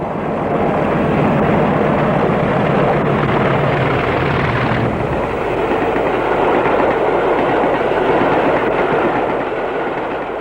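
A British Rail Class 40 diesel locomotive hauls a train past Kettlesbeck on the Cumbrian Mountain Express, a loud, steady engine roar with wheel clatter filling the whole stretch, close by and with no voices.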